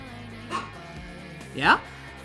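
A dog gives two short vocal bursts, a brief yip and then a louder whining bark, close by in an indoor room under a steady background hum.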